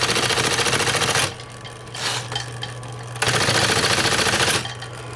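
Smith-Corona SCM Electra 120 portable electric typewriter from 1971, its motor humming steadily while the power space mechanism runs in two bursts of dense mechanical chatter, loud and close, with a quieter gap between them.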